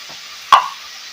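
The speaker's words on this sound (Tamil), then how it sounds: "இப்போ எடுத்து வச்சு கட் பண்ணி வச்சுருக்க தக்காளியை போட்டுடலாம்" Chopped tomatoes drop into a hot pan for a Tamil banana stem kootu, giving one soft, close plop followed by a brief sizzle that fades quickly.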